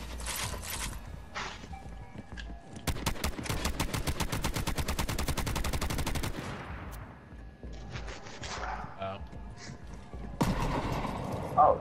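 Rapid automatic gunfire from a mech's gun seat in a video game, a long sustained burst of closely spaced shots following scattered game effects, with more shooting and noise returning near the end.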